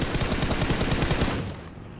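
Rapid automatic gunfire in the mobile battle royale game PUBG Mobile, a dense burst of repeated shots loud and close for about a second and a half before cutting off.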